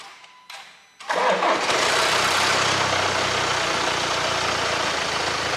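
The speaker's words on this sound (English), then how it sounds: "They're known to wear prematurely, and when they do, they start to give that sort of distinct rattle on cold startup" Jaguar Land Rover engine with a worn timing chain cold-starting: a brief crank, then an abrupt catch into a loud, steady idle with a harsh, noisy rattling texture, heard up close with no talking.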